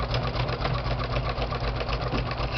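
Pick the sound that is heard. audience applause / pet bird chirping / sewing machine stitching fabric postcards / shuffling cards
sewing machine stitching fabric postcards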